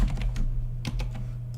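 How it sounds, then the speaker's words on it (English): Close, rapid keystrokes on a computer keyboard come in quick bursts with brief pauses, loud and alone with no talking. "I'm going to type it all back out because it's a lot easier"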